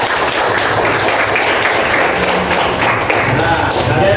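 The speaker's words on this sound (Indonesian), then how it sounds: "Tepuk tangan untuk kelompok." Students in a classroom break into sustained applause for a group, a thick wash of many hands clapping continuously at moderate loudness throughout.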